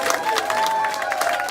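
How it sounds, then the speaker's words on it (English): Friends, family and supporters in the Hancock Community Center applaud and cheer to welcome a gubernatorial candidate, with a sustained wash of crowd clapping and faint tonal sounds and murmuring underneath. "Bellows greeting friends, family, and supporters in the Hancock Community Center as they welcome her with applause"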